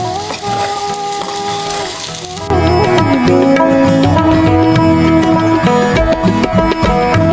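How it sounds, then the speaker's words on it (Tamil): Onion, chili and curry leaves fry in a pan while being stirred, producing a loud, continuous sizzle with the scrape and knock of a spoon, and a steady tonal hum in the background. "நாங்கள் வெங்காயம் கொச்சிக்காய் கருவேப்பிலாம் போட்டுட்டோம் இந்த மிக்ஸ் ஆகிருக்கு பாருங்கள்"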